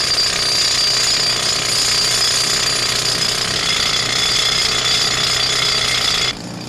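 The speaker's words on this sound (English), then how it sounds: "That was Eamon drilling the holes" Loud, continuous hammering roar of a rock drill boring holes into granite at Walsh's granite quarry, steady throughout before cutting off abruptly near the end.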